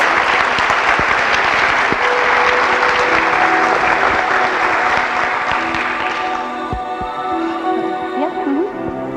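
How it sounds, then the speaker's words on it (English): Sustained audience applause for the little princesses at the Fostoria Glass pageant, a dense steady clapping that carries on throughout and eases slightly near the end while a voice talks over it. "Another big round of applause for all of our wee princesses."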